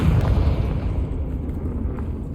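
A Confringo fire spell explodes in Hogwarts Legacy: a dense, low rumbling blast that stays loud and roiling throughout.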